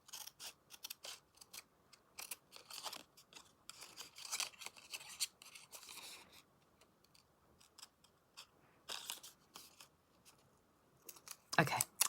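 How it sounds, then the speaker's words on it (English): Quiet, repeated snipping of scissors cutting, a series of short crisp clicks and rustles in irregular bursts, close up. "Let's just go with the scissors, I think."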